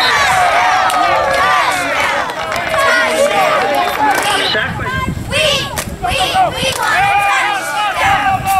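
A crowd honouring the 2017 Columbus Academy 5th-6th grade youth football team claps and cheers loudly for several seconds in a dense, continuous din of shouts and whoops that rises and falls throughout.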